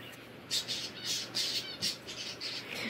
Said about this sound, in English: you hear parakeets and doves and roosters and chickens and finches and cockatiels all making noise